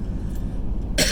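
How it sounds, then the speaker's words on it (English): A man coughs while driving, a single close throaty clearing cough that bursts at the end over the low steady rumble of the car interior. "Ever since COVID, I cough."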